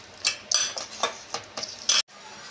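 Ingredients for stuffed pumpkin leaf fritters being mixed in a bowl, with irregular scraping, stirring and clinking strokes of a utensil against the bowl, close and fairly loud, stopping briefly near the end.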